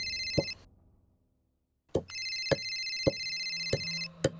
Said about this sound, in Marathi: मालकांचा फोन आहे.